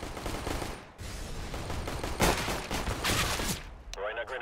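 Video game gunfire comes in dense automatic bursts and rattling volleys, loud and close, with a sharper blast near the middle and faint clattering at the end.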